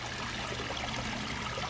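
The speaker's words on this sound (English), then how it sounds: "This is our little waterfall" A small garden waterfall trickles and babbles quietly in a brief, even wash of running water, with no voices over it.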